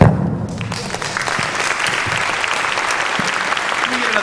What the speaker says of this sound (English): Another huge round of applause for Ed Millette, please.